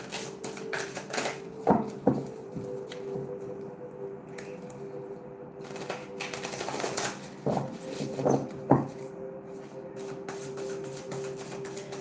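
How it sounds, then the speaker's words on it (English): A tarot card deck is shuffled in scattered soft riffles and taps at close range, with quiet gaps and a faint steady hum underneath, no voices. "I can't possibly shuffle any more cards"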